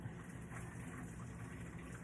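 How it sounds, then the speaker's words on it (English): Wet synthetic fur being rolled up and pressed so the water runs out, giving a steady, soft trickling and gushing that stays level throughout, with no talking. "it's gonna be heavy, but as it does, it's pressing a lot of the water out"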